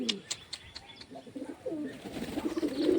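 Domestic pigeons cooing close by in a loft, low soft throaty coos repeating and building to a louder run toward the end, with faint chirps above.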